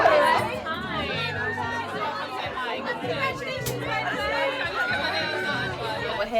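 Dense crowd chatter fills a room at a fashion event showcasing a new autumn-winter collection, many overlapping voices and occasional laughter holding a steady, busy level throughout.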